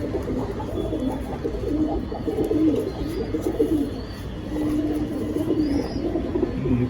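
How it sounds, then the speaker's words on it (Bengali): Pigeons cooing steadily at a bird market where birds are being sold, a continuous low murmur of overlapping coos with faint chirps, close and fairly loud, with no talking. "নর পায়রা"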